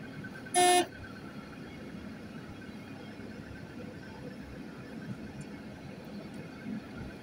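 One short, loud car horn toot sounds near the start, followed by quiet outdoor road ambience.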